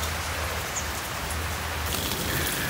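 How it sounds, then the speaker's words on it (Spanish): Light rain falling, a soft continuous hiss of drops on surfaces and leaves, steady and faint with a low background rumble, and no talking. "Está lloviendo un poco, ¿no?"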